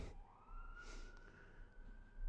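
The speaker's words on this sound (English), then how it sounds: "There's a siren going by." An emergency siren wails outside, a faint rising and sustained tone heard from a distance through a quiet room, with low rumble underneath and no talking.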